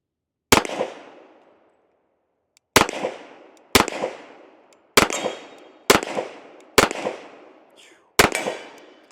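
Seven sharp, loud gunshots from a Sig 1911 X Stainless pistol fired outdoors, single shots spaced about a second or more apart, each with a short ringing decay, no talking between them.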